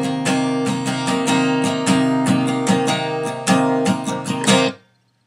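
A picked guitar phrase with ringing notes in a steady pattern, fairly loud and alone, ending abruptly in silence.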